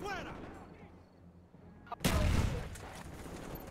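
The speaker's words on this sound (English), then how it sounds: "Oh, flashbang." A flashbang grenade bursts with a sudden loud crack and lingering roar in Black Ops, following quieter ambient game noise and distant rumbling.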